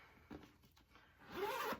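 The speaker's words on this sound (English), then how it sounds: "let me zip it up here." A tote bag zipper is pulled closed in a short rasping run that builds louder toward the end, with a lighter zip sound earlier, close up and with no talking.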